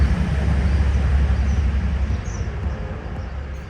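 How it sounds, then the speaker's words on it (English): A slow train rumbles steadily close by, a broad low-heavy roar with a continuous hiss above it that holds nearly level throughout, easing only slightly toward the end. "A very slow train now."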